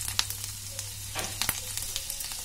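Green chilies sizzle in hot mustard oil in a kadai with a steady hiss full of sharp crackles and scattered pops, close and fairly loud. No voices.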